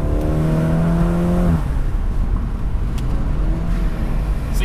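A 2018 BMW 430i convertible's engine climbs in revs under acceleration, with rising harmonic tones for the first second and a half, then a steady loud road and wind roar as the car carries on.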